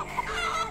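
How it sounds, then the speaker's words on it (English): Hens clucking in the farming video game Garden Paws, a short burst of soft, close fowl clucks over a faint background hum, with no talking. "I have new hens."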